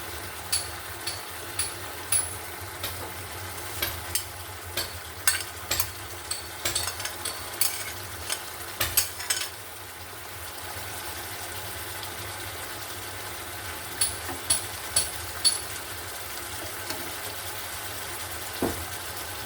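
Hilsa fish frying in a pan as soaked onions go in, a steady low sizzle with scattered crackles and light clinks of stirring at close range, no voices.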